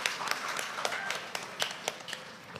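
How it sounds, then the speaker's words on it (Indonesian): Scattered claps ring out from an audience at a Yogyakarta mayoral candidates' debate, sparse and uneven rather than a full ovation, with faint voices in the background. "Mohon tepuk tangan yang meriah."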